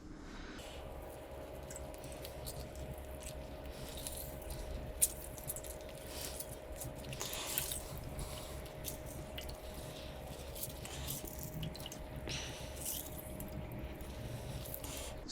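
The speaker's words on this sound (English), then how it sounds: "And lastly, we're going to add half a lemon." Half a lemon squeezed by hand into a Vietnamese green mango salad sauce, soft wet squishing and dripping close up, quiet and irregular with small juicy pops.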